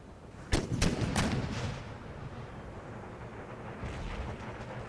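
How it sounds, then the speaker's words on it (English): Three booming cannon shots fire in quick succession in the video game Empire: Total War, their roar rolling on into a long rumble, followed by a softer distant blast. "Bring the cannons to bear."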